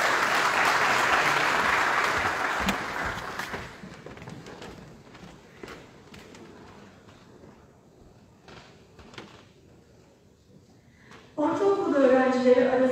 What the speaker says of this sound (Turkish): Başarılı öğrencilerimizi bir kez daha kutluyor ve alkışlarınız eşliğinde kendilerine yerlerini veriyor.